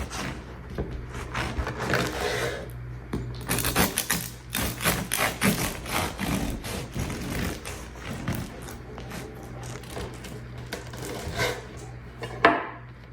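A knife cuts down through a loaf of sourdough bread into roughly half-inch slices, giving repeated woody taps, scrapes and thumps against the surface at an uneven rhythm, with no voices.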